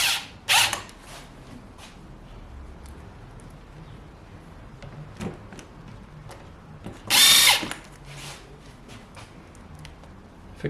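A power drill drives square-drive washer screws through pre-drilled holes into a Duralite panel in two short, sharp bursts, one brief and one longer, with quiet handling noise and faint clicks between them.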